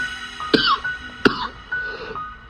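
A storyteller's voice imitates coughing, delivering two sharp, close, throaty coughs about 0.7 seconds apart, each trailing into a rasping vocal tail, followed by a quieter breathy rasp.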